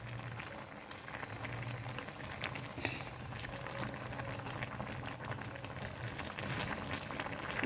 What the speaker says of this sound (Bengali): আমি এখানে গোটা টমেটো সেদ্ধ করে নিচ্ছি ভালো করে